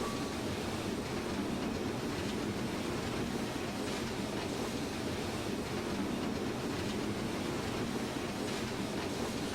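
Train arriving at a station in Train Simulator 2016 on the Mannheim–Karlsruhe route, a faint, steady broadband rumble and hiss of rolling stock, continuous with no talking.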